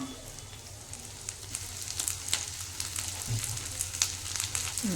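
Cumin seeds sizzle in hot oil as a soft, continuous frying hiss with scattered crackles, fairly quiet and close, with no voices over it.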